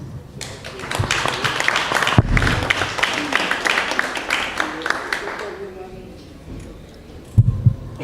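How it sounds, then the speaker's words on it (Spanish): A seminar audience applauds the departing panelists at a forum on migration processes in Guerrero, a dense clapping wash lasting about five seconds that then fades to quiet room tone, with a brief thump near the end. "les despedimos con un aplauso"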